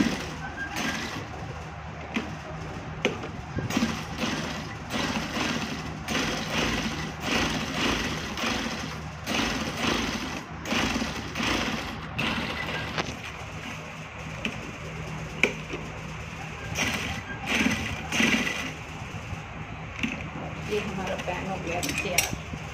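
An electric sewing machine stitches along the edge of a men's kurta, running in a steady, fast mechanical chatter with frequent short stops and restarts throughout, close by and moderately loud.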